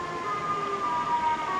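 A siren wails loud and close in a short burst, its sustained rising and falling tone alone with no talk.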